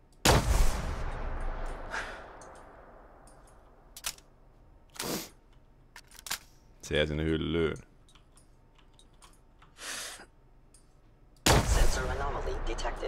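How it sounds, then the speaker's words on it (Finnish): Sniper rifle shots in the video game Fallout 4, several sharp loud cracks spread across the span with a ringing tail after the first, plus clicks and a short mechanical whir, with someone talking briefly. "Tässä mä ammun sut täältä hyllyn välistä."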